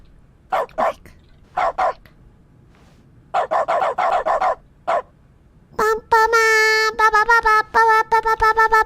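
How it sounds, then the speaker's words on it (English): Cartoonish dog barks in the video game The Stanley Parable Ultra Deluxe, short bursts in clusters with pauses, ending in louder, more tonal repeated yelps. "I can't interact with anything or else I'll bark"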